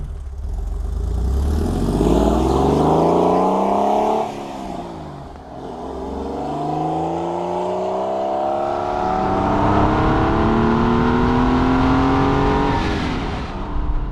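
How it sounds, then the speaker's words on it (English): An air-cooled Porsche 993 911 Carrera 4S drives off, its engine note rising through the gears with repeated revving sweeps and a dip between shifts, loud and close with no talk. "this one I'm driving today is pretty close to a factory 993 4S. So let's go for a drive."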